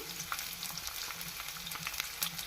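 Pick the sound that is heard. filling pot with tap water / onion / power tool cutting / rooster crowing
onion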